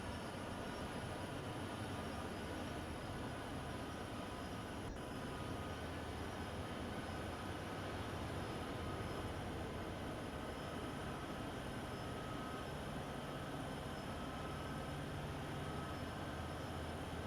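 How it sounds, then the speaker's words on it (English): A long freight train rumbles along at a steady pace on the Sherman Hill route in Train Sim World 2, a continuous low roll and rattle of wagons, fairly quiet and unbroken, with no voices. "The longest train I have ever driven in train sim history."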